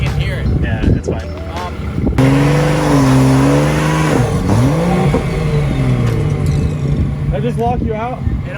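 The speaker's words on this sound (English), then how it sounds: "That's a mini burnout." BMW 340i with a B58 engine revs hard during a brief mini burnout, loud close engine tones climbing and wavering with tire noise, while people talk over it.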